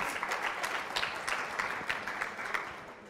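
A large business-convention audience claps steadily throughout, a dense, moderately distant patter of many hands with no speech over it.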